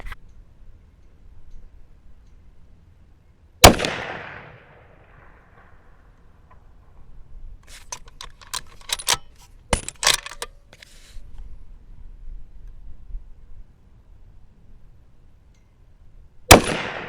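Two sharp, loud gunshots from a 300BLK pistol firing 110-grain bullets, spaced far apart outdoors at long range, with fainter clicks and ticks between them and no talk.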